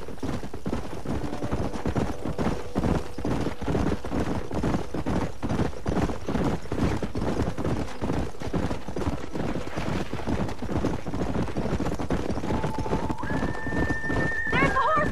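Horses gallop with a dense, steady clatter of hooves and repeated neighs and whinnies in the Red Dead Redemption video game, with voices and occasional gunfire mixed in throughout.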